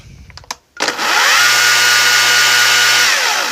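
A WEN 40417 battery chainsaw spins up after a few clicks and whines steadily at full speed close by for several seconds, with no cutting heard.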